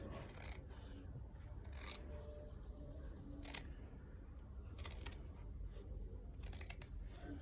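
Scissors cut fabric for a collar roll in quick, crisp snips. The short bursts come in uneven clusters over a low, quiet room background.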